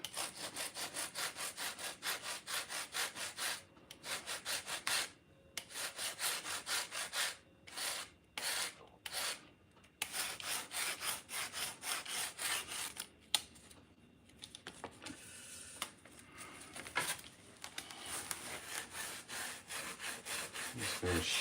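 A rasp shaping carved foam, heard as rapid repeated rough scraping strokes in close bursts with short pauses between them, growing more irregular and softer in the second half.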